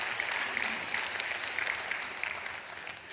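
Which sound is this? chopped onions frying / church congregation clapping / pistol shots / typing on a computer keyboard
church congregation clapping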